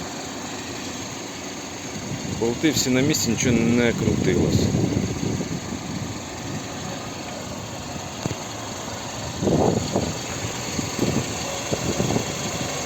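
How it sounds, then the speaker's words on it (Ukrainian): The 2.0-litre petrol engine of a 2006 Kia Sportage 4x4 with manual gearbox idles steadily up close while someone talks over it in two bursts. "Ось робота двигуна."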